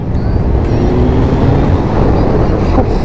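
A fuel-injected motorcycle engine pulls hard under acceleration, a steady, loud, dense rumble that holds without a break for about three seconds.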